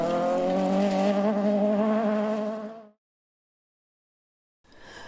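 A rally car spins on a stage road at the Speyside rally in Cooper Park, its engine giving a loud, sustained, buzzing whine for about three seconds before cutting to silence, then returning faintly.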